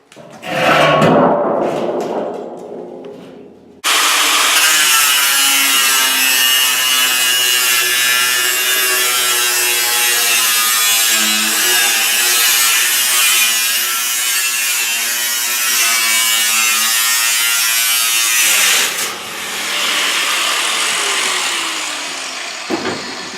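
Angle grinder cutting the top off a steel JCB oil drum, a loud sustained high whine and rasp that runs steadily for about fifteen seconds, with a few clattering handling noises before and after.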